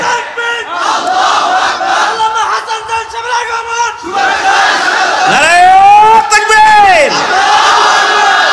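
A sermon crowd in Bangladesh shouts takbir louder, massed voices rising in a loud, drawn-out chant, then a second even stronger collective cry near the end.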